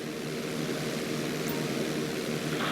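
Steady propeller-plane engine drone during a barrel roll at flight school in GTA V, a continuous even hum with no voices over it.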